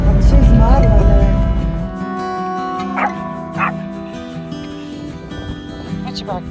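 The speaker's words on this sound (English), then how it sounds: "What you barking at" A dog yips and barks in short bursts on an outdoor walk in Joshua Tree National Park, with a person talking over much of it and faint ambient noise between calls.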